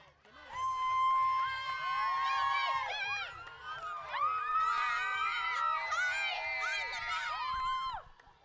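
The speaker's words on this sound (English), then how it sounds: "Not just our future cheerleaders, they're our current cheerleaders now cheering on their fellow Bulldogs." Young cheerleaders at a Lowell versus Byron Center varsity high school football homecoming game, high-pitched children's voices shouting and whooping together in long sustained calls, loud and close, continuing for several seconds.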